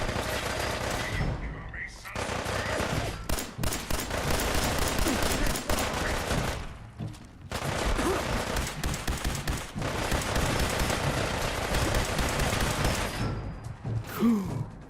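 Rifle gunfire in the video game Fallout 4 VR: loud bursts of shots come in long dense stretches, broken by short pauses and a few mechanical clicks.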